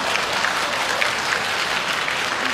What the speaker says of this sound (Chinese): 那么多掌声哦